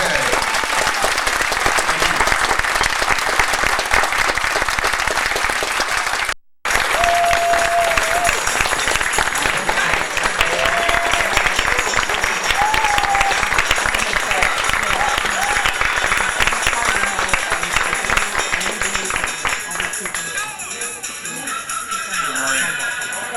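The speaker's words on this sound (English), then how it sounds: "Let's give a big round of applause to Carl and BK." A large audience bursts into loud, sustained applause that keeps going for over twenty seconds, with a brief cut partway through and a few whoops rising from the crowd.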